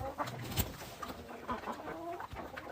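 Hens and a black rooster cluck softly in a farmyard, a quiet, continuous mix of low clucks and scattered bird calls with no one speaking.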